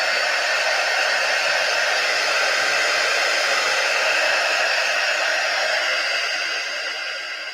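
A heat tool blows steadily to dry chalk paste on a screen, a continuous loud whooshing hiss that holds for several seconds and eases slightly at the end.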